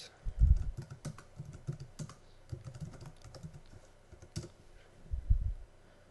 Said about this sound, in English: Type Daniel